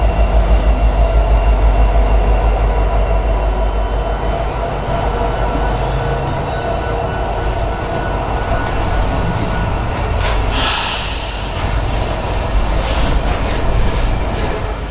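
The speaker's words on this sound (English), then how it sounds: "catching CN Local L572 departing Oakwood Yard with a pair of SD70 M-2s" A CN freight train led by a pair of SD70M-2 locomotives departs Oakwood Yard, its loud low engine rumble and rolling wheel noise steady and close, with a brief burst of hiss or squeal partway through.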